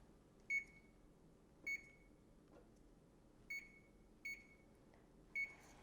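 Convection oven control panel being set to preheat, five short, bright electronic beeps spaced irregularly over a quiet kitchen background, close and clear, with no talk.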